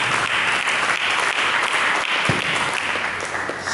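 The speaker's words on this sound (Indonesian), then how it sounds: "Mari kita berikan tepuk tangan." Steady, dense applause from a church congregation during a sermon, filling the whole stretch at an even level with no voices over it.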